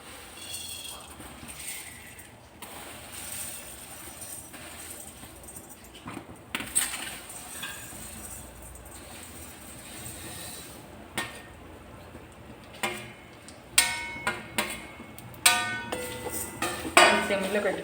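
Vermicelli roasting in ghee in a pan gives a low, steady sizzle, broken by spatula scrapes and metallic clinks against the pan that grow sharper and more frequent toward the end.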